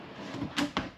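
A kitchen drawer slides in the 2021 Palomino River Ranch 390RL RV, two quick soft thuds about a fifth of a second apart, close and brief with no voices.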